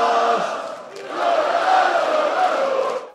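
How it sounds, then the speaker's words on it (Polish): A large crowd at an outdoor GKS Katowice promotion celebration in front of the Spodek arena in Katowice. Many voices chant and roar together in a loud, sustained swell that dips briefly and then rises again before cutting off. "Na fetę przed Spodkiem przyszły tłumy"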